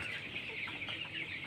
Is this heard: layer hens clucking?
yes